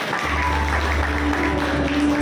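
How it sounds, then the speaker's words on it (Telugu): A crowd claps continuously at a felicitation gathering for an MP hosted by pastors. The applause is a dense, even wash over a low hum. "అందరం చప్పట్లు కొడదాం"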